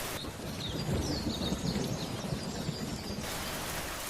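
Steady downpour of heavy rain hissing on surfaces, dense and continuous, with faint high chirps in the background.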